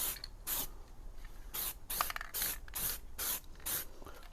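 Aerosol spray paint hisses onto a project car being readied for its MoT, in about eight short, close bursts separated by brief pauses, with no talking.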